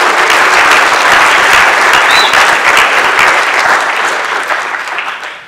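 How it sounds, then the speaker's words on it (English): A conference keynote audience in London bursts into loud, dense applause that holds steady for several seconds, then gradually fades toward the end. "Let's give them all a big round of applause."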